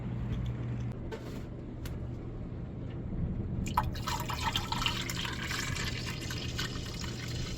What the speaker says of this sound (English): put a little bit of water in your bowl like it normally would be